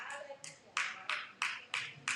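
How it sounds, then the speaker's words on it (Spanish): Faint, slow rhythmic claps, about six spaced evenly, with a voice briefly heard at the start. "Y dense un aplauso"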